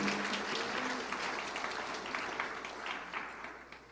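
A church congregation at a Full Gospel church in Taebaek claps during a 50th-anniversary service, a fairly soft burst of many hands that gradually tapers off.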